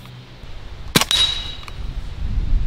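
A single sharp shot from a Hatsan Blitz full-auto .30 caliber air rifle fired through a chronograph, a loud crack with a brief ringing tail, followed by quiet outdoor background.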